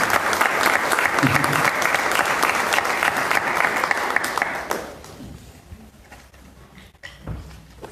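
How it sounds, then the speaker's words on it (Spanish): An audience applauds loudly at a closing session of an event on memory and social justice, a dense continuous burst of clapping that fades out after about five seconds, leaving quieter room noise and a few thumps. "un aplausote a todos escuchando"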